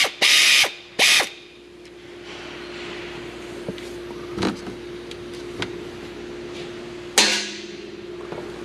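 Ratchet work removing bolts under a 2021 Hyundai Tucson, two short loud mechanical bursts at the start, then a few clicks and a sharp clack over a steady hum, close by.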